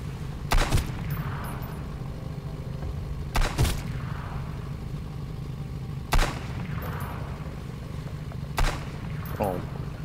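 Gunfire in the survival video game Sunken Land, four sharp booming shots spaced a couple of seconds apart, each a loud crack with a short echoing tail over a low droning game background.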